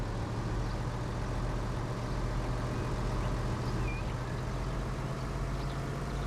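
A bus in the Transport Fever video game drives along a bumpy road with a steady, low engine drone and rumble, continuous and moderately quiet, with no talking.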